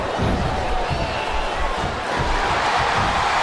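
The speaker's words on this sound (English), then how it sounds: "Now the fans start to cheer for him." A wrestling arena crowd in WWE SVR 2008 roars steadily throughout, a dense, loud wall of cheering with faint thumps underneath.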